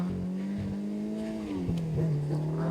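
A 2024 Polaris Slingshot SLR accelerates hard in first gear on straight pavement, its engine note climbing steadily in a loud rising drone with a brief dip and scrubbing tire noise from the spinning rear wheel.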